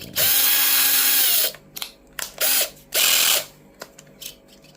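A power drill driving a test screw into an enclosure seal job, whirring loudly in a long burst, then in several shorter bursts with ratcheting clicks and pauses between them, close and with no talk.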